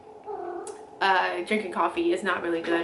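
A pet cat meows repeatedly and insistently, close by, while someone talks over it.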